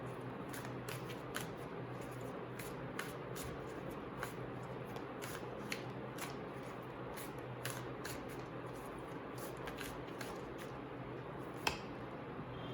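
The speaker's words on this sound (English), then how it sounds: "Let me shuffle again." Tarot cards shuffled by hand, a soft steady riffling with scattered crisp clicks and flicks that continues for the whole stretch, quiet and close, with no talking.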